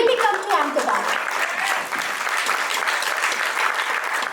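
Sustained audience clapping fills the hall at a panel discussion on sustainability in Ahmedabad, dense and steady throughout, with a voice briefly audible at the very start.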